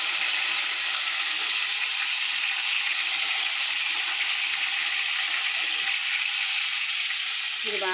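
Brinjals for Gutti Vankaya curry fry in hot oil, giving a steady, loud sizzle that holds for the whole stretch with no talk over it.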